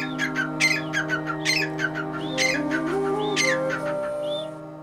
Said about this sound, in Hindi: वालदैन ने तीतर चिड़ियां और तोते पाल रखे हैं।